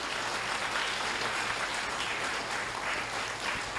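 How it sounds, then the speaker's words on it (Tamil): Children at a Lenten church retreat receive applause from the congregation, heard as a continuous, even wash of many hands clapping together throughout. "அதுக்காக உச்சமாக கைதட்டு இருந்த குழந்தைங்களுக்கு."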